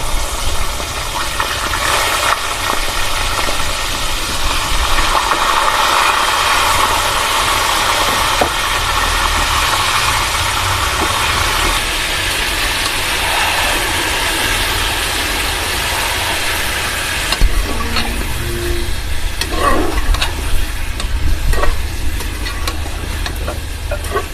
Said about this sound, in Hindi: चिकन को हम अच्छी तरह फ्राई करेंगे